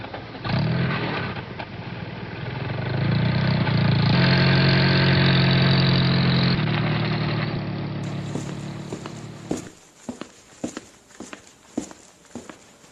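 A car engine runs steadily, climbs and fades as the vehicle drives off, then gives way to several sharp knocks and thumps nearby.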